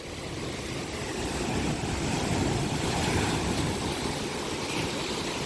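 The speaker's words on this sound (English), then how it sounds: "And the tides are now coming in." Ocean surf as the tide comes in near Jeongbang Waterfall on Jeju's coast at Seogwipo, a loud continuous wash of breaking waves swelling slightly, with wind buffeting the microphone and no voices.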